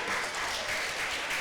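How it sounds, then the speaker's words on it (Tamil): A crowd at a Vacation Bible School prize-giving claps for a winner, a short, even wash of applause at moderate loudness with no voices over it. "கைத்தட்டுங்க எல்லாரும்."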